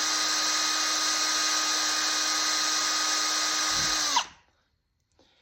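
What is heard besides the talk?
power drill pre-drilling hole in wood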